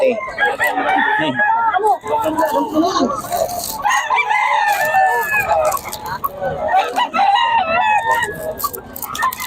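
Roosters crowing and chickens clucking at a busy poultry market in Bocaue, several birds calling over one another in loud overlapping bursts, with people talking throughout.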